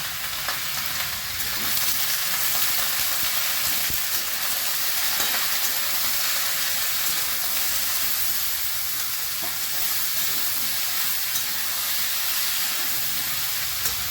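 Spinach curry with bori, salt, turmeric and cumin frying in a pan, a dense, loud, unbroken sizzle lasting throughout with faint stirring underneath.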